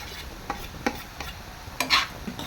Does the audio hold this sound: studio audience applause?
no